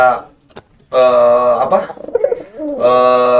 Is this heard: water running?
no